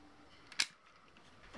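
Sharp click from a long charcoal lighter being sparked to light candles, a single close snap standing out briefly against quiet room hiss, with a fainter tick just after.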